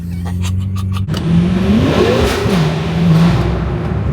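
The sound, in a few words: BMW F10 M5 engine revving on a tunnel run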